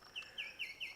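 Birds chirp outdoors at a rainy-night truck campsite, four quick bright tweets in an even rhythm over about a second, fairly faint and alone with no talking.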